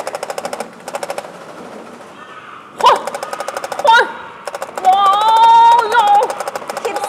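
Rapid automatic gunfire bursts from a multiplayer VR arcade shooting game, repeating in short rhythmic volleys with electronic sweeps and tones between them, loud and close, with excited players shouting over it.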